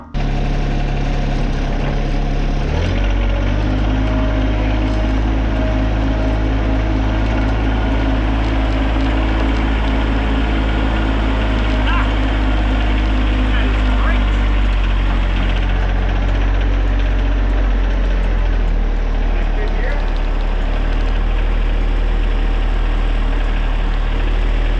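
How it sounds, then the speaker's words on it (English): A spinning-blade saw cuts logs while loading them onto a tandem axle trailer, making a loud, steady engine drone that shifts in pitch early on and keeps up unbroken, with no talk. "when it cuts the wood, the blade is spinning this way"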